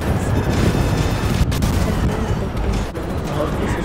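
Police gunfire in GTA 5, a steady barrage of booming, overlapping shots and thuds, loud and close throughout, with a voice speaking over it.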